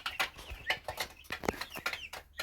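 Young hens being fed clucking softly and repeatedly in short, uneven bursts, close by but quiet, with small pecking and rustling sounds between calls.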